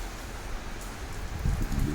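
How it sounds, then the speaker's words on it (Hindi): Rain beginning to fall on a temple courtyard in Patan, a steady wash of patter with slightly heavier drops building near the end, continuous and fairly close, with no voices. "बारिश शुरू हो गई है।"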